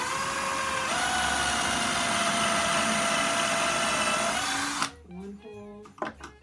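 A power drill boring pocket holes in 1.5-inch-wide wood stock for a Christmas tree collar, a loud steady whine running unbroken for nearly five seconds before cutting off abruptly, followed by faint clatter.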